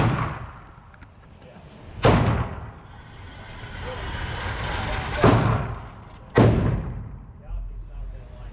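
Shots from an IWI Jericho 941 F pistol on a range: four loud booming reports spaced irregularly about one to three seconds apart, each with a rolling echoing tail, plus a fainter thump near the end.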